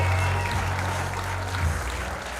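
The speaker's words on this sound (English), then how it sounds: "Round of applause to the novice" Audience at a standup comedy show applauding, a sustained wash of clapping from a crowd, loud and steady from start to finish without any speech on top.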